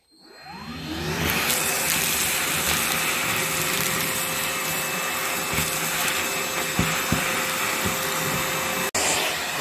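Parkside cordless vacuum cleaner with its bag fitted and only the nozzle attached spins up from silence into a loud, steady whine and rush of air, running close and constant with a brief dip near the end.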